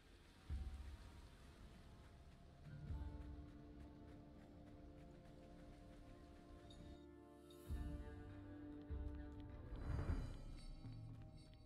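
Rain effect from the Rain of Arrows ability in Tribes of Midgard, a steady patter of falling drops under game music, with a few brief louder swells, no talk.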